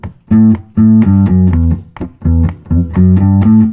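A bass guitar plays the opening line of a rock song, a pickup note leading into an A, in a run of sustained, rhythmic low notes with brief gaps, loud and close.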